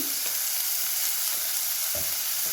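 Onions and turmeric powder frying in a pan for a Karnataka bassaru and palya dish, a steady broadband sizzle with a few soft spatula scrapes and stirs, close and continuous, no voices.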